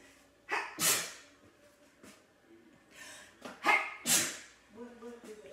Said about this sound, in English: Something in there is making me sneeze.